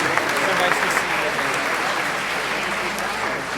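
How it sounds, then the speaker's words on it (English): A crowd at a community dessert reception gives a round of applause to rabbis and cantors, dense continuous clapping that holds steady throughout and tapers slightly at the end. "A round of applause for our rabbis and our cantors."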